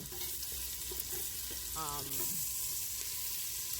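Butter and oil sizzle steadily in a pan before rice goes in, a continuous close frying hiss with a brief clink partway through.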